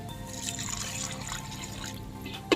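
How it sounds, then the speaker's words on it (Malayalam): A little water poured into a pan of chicken masala, a close gentle trickling pour over a faint background hum, ending with a brief sharp knock. "നമുക്കിത് വെന്ത് വരാൻ വേണ്ടി മാത്രമേ ശകലം വെള്ളം ചേർക്കുന്നുണ്ട് കേട്ടോ."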